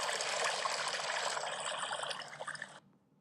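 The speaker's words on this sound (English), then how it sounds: "The film constantly throughout uses water sounds" Steady flowing water trickles and splashes continuously in a close, even stream for nearly three seconds, then cuts off abruptly into near silence.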